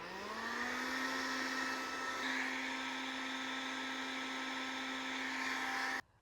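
A Karcher WV 1 Plus battery window vacuum runs with a steady, tonal motor whine and airy suction hiss, holding constant for about six seconds before cutting off abruptly; no talking.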